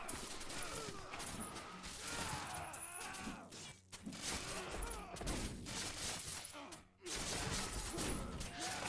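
Rapid bursts of trap fire and impacts from the bolt trap in the tower-defense game Dungeon Warfare 3, dense and busy with crackling volleys, shattering hits and short dips between waves.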